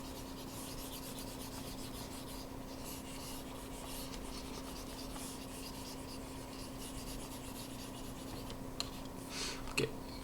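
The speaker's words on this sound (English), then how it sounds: "let me just erase this as well." A board eraser rubs steadily across a board, wiping off written work in a calculus lesson, a faint continuous scrubbing with a few small knocks near the end and no talking.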